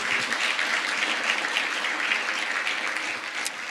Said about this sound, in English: Big round of applause for our host nation.